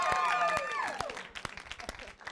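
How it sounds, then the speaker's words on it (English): Studio audience applause for the winning team of a trivia show, with a brief cheer or whoop at the start over clapping that quickly thins into scattered claps. "Give a round of applause."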